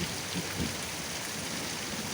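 Heavy rain pours down steadily in a tropical downpour, a dense, even hiss of drops close by that fills the whole stretch without a break.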